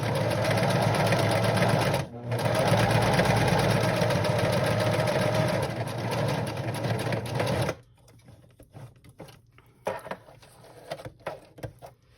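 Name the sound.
sewing machine stitching vintage fabric pumpkin pieces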